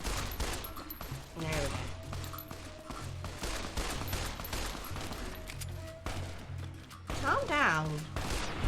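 Repeated shots from a 10mm pistol in a Fallout mod for Minecraft crackle in a busy game mix, mixed with other combat noise while someone talks over it.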